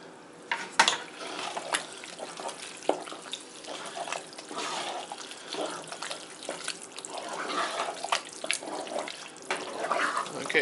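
A spoon stirs macaroni into melted cheese, giving wet, sticky squelches and scraping against the pot in an uneven rhythm, heard close up with no talking.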